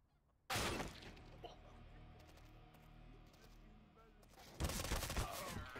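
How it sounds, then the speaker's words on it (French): Two rapid bursts of MP5 submachine gun fire in Counter-Strike: Global Offensive, one near the start and one near the end, with quieter game ambience between them. "Je lui ai mis que 2 balles, c'est la nouvelle MP5 qui est nulle"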